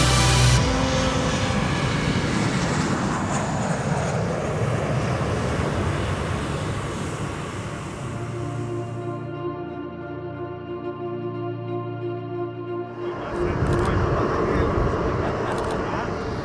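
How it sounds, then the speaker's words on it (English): A JetBlue airliner takes off at Queen Beatrix International Airport in Aruba, its loud, steady engine roar filling the air before easing into a lower drone, then swelling again near the end. "We just got another JetBlue taking off."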